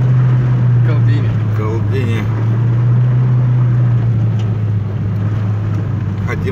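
A vehicle drives steadily on a rough spring track, its engine a loud, constant hum throughout, with faint voices briefly audible over the drone.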